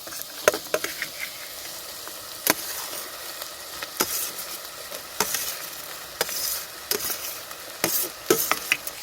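Tomatoes frying with salt in a hot pot over an outdoor village fire, with soft crackling sizzle under sharp, intermittent stirring clatters of a spoon against the metal, no talking.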